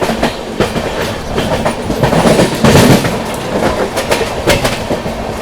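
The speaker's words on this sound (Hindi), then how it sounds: "ये तो वैशाली एक्सप्रेस है" The Vaishali Express passes close by with loud rhythmic clickety-clack from its wheels over rail joints, a steady rumble swelling and easing as carriages roll past, with no voices.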